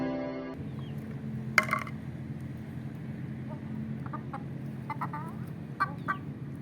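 Aseel hens and roosters clucking in a yard, a few short scattered clucks and calls over a steady low hum, moderately near and fairly quiet.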